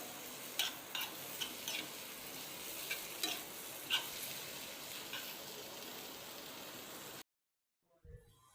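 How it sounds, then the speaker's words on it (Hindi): Okra curry (bhindi salan) heats in a pan with a soft continuous sizzle, punctuated by several light spoon scrapes and clinks as it is stirred, then cuts to near silence with a brief thump near the end. "भिंडी का सालन गर्म कर रही हूँ।"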